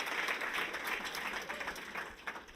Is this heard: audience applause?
yes